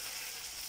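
Cauliflower florets for restaurant-style crispy gobi manchurian deep-frying in hot oil, a steady, even sizzling hiss throughout with no voices.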